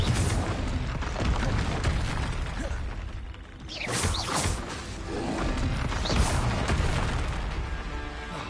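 Fire-spell explosion in the Hogwarts Legacy video game: a dense, loud rumbling blast with crackling debris and mechanical clatter, a brief dip midway, then a second swelling burst that rings on; no speech.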